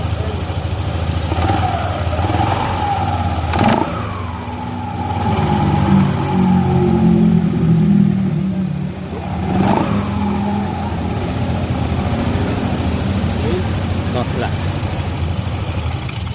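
A Yamaha Nmax scooter running with a steady close engine drone, its throttle opened gently for a couple of mild revs that rise and fall over the idle.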